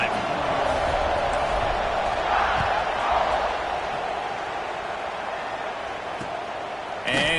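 Stadium crowd noise in the College Football 26 video game, a steady broad roar filling the background throughout as a commentator talks over it, with a brief thump near the end.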